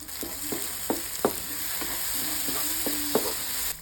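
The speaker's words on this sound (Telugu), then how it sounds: "ఒక్క నిమిషం వేయిస్తే ఉల్లికారం పచ్చి వాసన పోతుంది" Onion-chili paste sizzles steadily in a pan for a village-style brinjal curry while a spoon scrapes and stirs it in repeated sharp strokes, close and alone with no voices.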